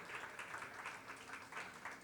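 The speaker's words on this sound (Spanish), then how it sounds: "Dale un aplauso a la obra de Galión," Church congregation applauding together, a steady broadband clatter of many hands sustained for about two seconds, moderately loud and fairly close with no voices over it.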